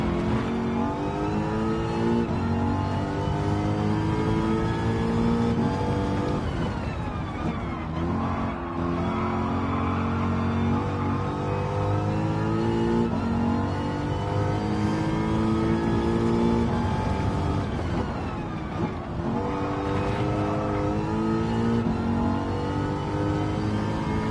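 A car engine in Gran Turismo 7, played in VR, revs and drones steadily through long acceleration runs, with gear changes and brief lifts of the throttle. The engine is loud and continuous, with a hint of tyre skid and no talk.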